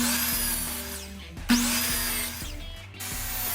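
A power saw whines and rasps through butcher block wood, with brief pauses between cuts.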